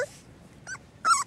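A small red puppy trying out his growl: a few short, high, squeaky yips and whimpery growls, close and faint, with quiet gaps between.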